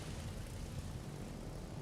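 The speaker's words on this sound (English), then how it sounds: "These planes in the air." Aircraft droning overhead in the naval video game World of Warships, a steady low rumbling engine noise holding at an even, moderate level throughout.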